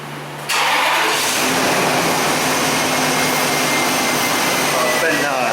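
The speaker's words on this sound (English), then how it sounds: "I'm gonna take it started up. The engine's cold right now." A cold Dodge Dakota pickup engine with an intermittent skipping, bucking fault cranks briefly, then catches and roars into a loud, steady idle that continues close by.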